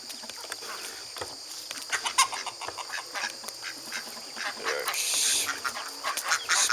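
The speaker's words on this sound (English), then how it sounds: "Spastic duck crew." Farm ducks quack and chatter in rapid, overlapping calls close by, with a rustling swell near the end and no talking.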